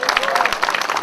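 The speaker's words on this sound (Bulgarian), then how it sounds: "Аплодисменти!" A crowd at the close of the Trayanovi Vrata 2011 rally claps in a brief burst of dense applause, with voices audible underneath.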